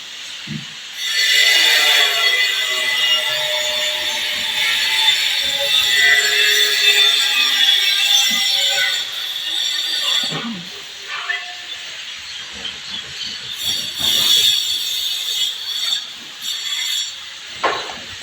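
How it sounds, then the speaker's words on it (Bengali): A construction machine runs at a nearby building site, giving a loud, steady hissing drone with a whining tonal edge that holds for most of the stretch, with occasional kitchen knocks underneath. "সাইডে মনে হয় বিল্ডিং এর কাজ হইতেছে, কাজে ওই মেশিন চালু করছে, ওটার আওয়াজ হইতেছে।"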